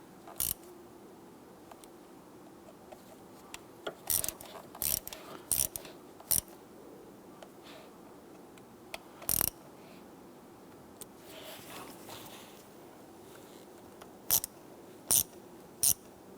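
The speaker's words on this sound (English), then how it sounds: "you want to come on in with your hand ratchet here, and we just want to go ahead and gently snug them." A hand ratchet gently snugs valve cover bolts on a 2011-2021 Jeep Grand Cherokee 3.6L V6, heard as short, scattered bursts of quick metallic clicking with quiet pauses between them, close by with no voice.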